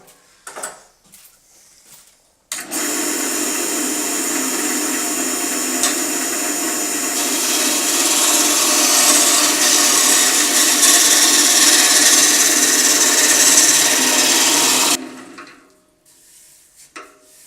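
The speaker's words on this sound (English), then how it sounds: "when I put my roughing gouge on, it's going to run true to the centre" A roughing gouge cuts into a spinning wooden blank on a lathe while a French rolling pin is turned, making a loud continuous rasping roar for about twelve seconds, framed by quieter shop noise before and after.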